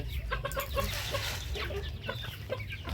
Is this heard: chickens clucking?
yes